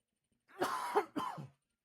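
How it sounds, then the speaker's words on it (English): Two quick, close coughs, slightly throaty, one after the other in an otherwise quiet room. "No, a cough."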